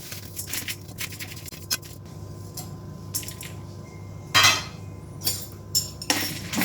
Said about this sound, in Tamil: இப்போ வந்து இந்த சாமான்லாம் வறுத்துக்கலாம்.